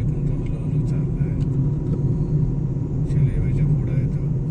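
A four-wheeler car climbs a steep, narrow ghat road near Misfa village in Muscat, its steady engine rumble heard from inside the cabin while people talk over it.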